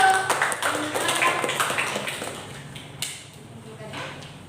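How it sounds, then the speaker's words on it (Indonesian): Students in a classroom applaud with a burst of scattered, fairly close hand claps that thins out and fades over a few seconds, with room noise beneath. "Tepuk tangan dulu untuk"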